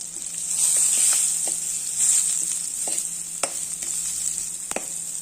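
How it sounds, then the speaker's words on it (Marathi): Asafoetida and then turmeric fry in hot oil with green chillies and curry leaves, giving a steady close sizzle with occasional light taps of a stirring spoon against the pan. "हिंग एकदा परतून घेऊया आता त्यात घालत हळद हळद पण परतून घेऊया"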